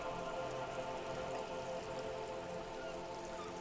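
Steady, dense rain in the video game Disco Elysium, a continuous patter of drops on hard surfaces that holds at an even level throughout with no talking.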